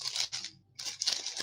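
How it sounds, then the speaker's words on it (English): Packaging crinkles in two bursts of bright, papery rustling with a brief silent gap between, close up, during a Blood Bowl tabletop game session; no talk. "Apologies for sounds of crinkling and the sorts."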